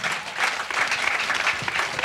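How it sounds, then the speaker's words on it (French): An audience claps at a regional church convention in Daoukro, a dense, steady round of applause from many hands, close and loud for the whole moment. "Vous avez bien applaudi."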